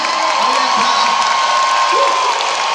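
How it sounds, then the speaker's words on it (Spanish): A large concert crowd in Miami cheers and claps steadily, a dense wall of applause with scattered whoops and shouts throughout. "un aplauso bien fuerte para el más grande de todos"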